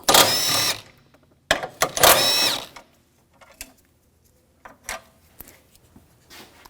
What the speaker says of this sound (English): Using a 13mm socket, take these bolts out.